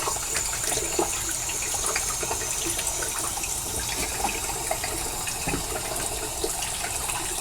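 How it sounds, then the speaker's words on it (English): Water splashed and running by hand at a bathroom sink while preparing to shave, a steady close wash of splashing and trickling with no talk. "a little bit of water on my face."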